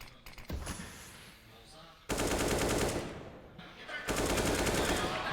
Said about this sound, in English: Eventually, Get Right will find more than just nade damage as he sprays in, anticipating a presence.